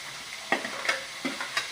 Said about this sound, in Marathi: सगळ्या भाज्या आता तेलामध्ये चांगल्या 10-15 मिनिटं आपल्याला चांगल्या फ्राय करून घ्यायचे